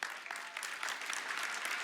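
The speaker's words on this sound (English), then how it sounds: "you can clap, it's fine" A crowd claps steadily and densely throughout at a national pro-life summit speech, a continuous wash of audience applause with no voices.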